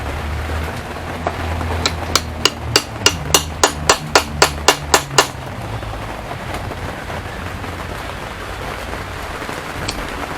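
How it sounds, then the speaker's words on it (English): An adjustable hammer strikes the subframe bolts of a Jeep Compass about a dozen times in a quick, even run of sharp metallic blows, then stops, with steady rain hissing in the background throughout. "We're going to use the adjustable hammer"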